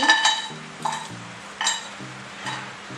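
Masala spices for Kolhapuri misal, with coconut slices, dry-roasted in a pan without oil, heard as a spoon scraping and clinking against the pan in a few short bursts, close and moderately loud, with no voices.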